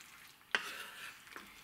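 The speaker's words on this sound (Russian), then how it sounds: "Нужно будет хорошо все перемешать." Lecho with beans and vegetables stirred in a pot, a brief spoon scrape sounding once sharply and again more softly over a quiet background.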